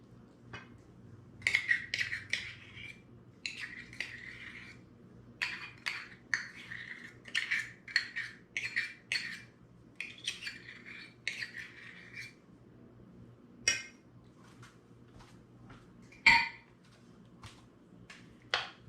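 A spoon scrapes and clinks against a bowl as baked beans are stirred with brown sugar and molasses, in irregular bursts of stirring with pauses between, fairly close and alone.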